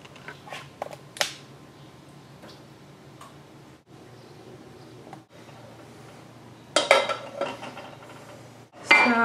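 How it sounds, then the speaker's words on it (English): Utensil clinking and scraping in a pot while stirring strawberry rhubarb pie filling that has turned watery, with scattered ticks and taps and a louder burst of stirring near the end; no speech. "So I'm just gonna mix this together."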